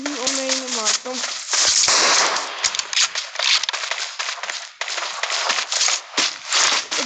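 Rapid video game gunfire crackles in dense, sharp bursts, loud and close, mixed with brief pauses and scattered bangs throughout.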